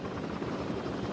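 Helicopter filming a mountain stage of the Vuelta a España cycling race during a rainy climb in Andorra, its steady rotor drone continuous and fairly loud throughout, with no talk.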